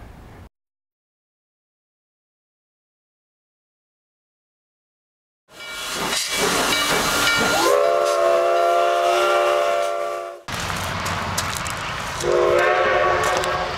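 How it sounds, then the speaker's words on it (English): After a stretch of silence, a loud steam train whistle blows in long sustained blasts, close by, with train rumble beneath and a brief break between blasts, in the Weminuche Wilderness. "There's the whistle blowing."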